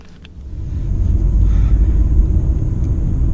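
A 2023 Skoda Octavia with a 1.0 e-TEC 110 HP engine and DSG gearbox drives along, its low engine and road rumble swelling after a quiet start and holding steady, close and continuous with no talk.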